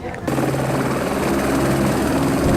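A helicopter in flight gives a loud, steady rotor and engine drone with a constant hum that runs throughout, while someone talks over it.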